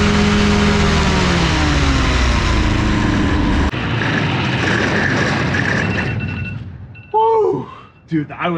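A Rotax 447 aircraft engine on an old abandoned airplane runs loud and close during break-in, its buzzing drone shifting in pitch before winding down, followed by brief voices.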